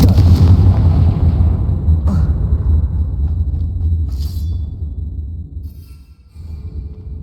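A Confringo blasting spell explodes in Hogwarts Legacy with a heavy boom, then a long, loud low rumble that slowly fades, with a couple of sharper crackles along the way.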